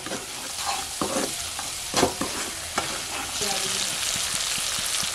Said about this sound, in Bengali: এবার সমস্ত মশলাগুলো মটরশুঁটি টমেটোর সঙ্গে নিয়ে কষিয়ে নিচ্ছি 2 থেকে 3 মিনিট।